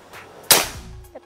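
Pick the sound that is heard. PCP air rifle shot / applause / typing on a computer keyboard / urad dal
PCP air rifle shot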